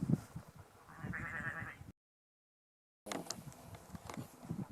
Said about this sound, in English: Surrounded by sheep.